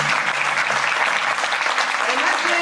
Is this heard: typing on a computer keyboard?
no